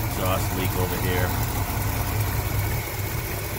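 A 1971 Dodge Charger R/T 440 V8 engine with an exhaust leak idles steadily with a low rumbling throb and a faint ticking hiss, running continuously and up close.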